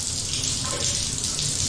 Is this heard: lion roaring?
no